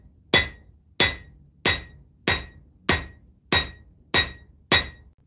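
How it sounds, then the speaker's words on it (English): Evenly spaced hammer blows forge a bevel along the edge of a steel knife blade, eight sharp ringing clangs about two-thirds of a second apart, each with a brief metallic ring afterward. "I'm going to start beveling, which is just angling the hammer in the piece of metal"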